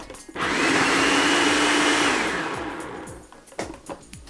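A blender whirs loudly for about two seconds, blitzing raw marinara sauce of tomato and dates to a chunky texture, then winds down and falls quiet.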